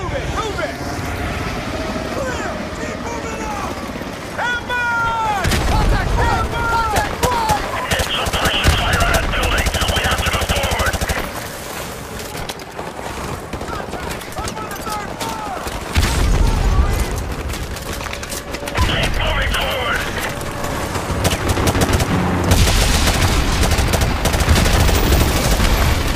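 Sustained covering gunfire rattles through a Call of Duty: Modern Warfare Remastered battle, loud machine-gun bursts in long stretches over wind and engine rumble, with voices shouting and talking throughout.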